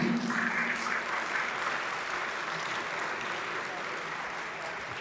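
An audience at a concluding conference session applauds to welcome a flute performer, a dense, steady wash of clapping that holds evenly and fades slightly over about five seconds, with faint crowd noise mixed in.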